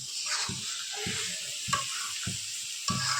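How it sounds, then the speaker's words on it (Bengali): Beef tripe frying in a pan, a steady loud sizzle with intermittent stirring scrapes and spatula knocks throughout. "আরো ভাজা ভাজা হোক"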